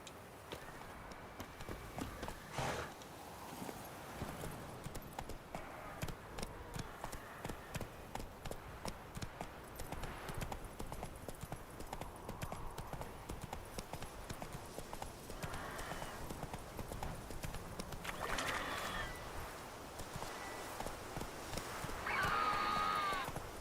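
Galloping horse hooves from The Witcher 3 video game beat in a fast, continuous rhythm at moderate distance, with occasional faint extra game sounds and no clear talking.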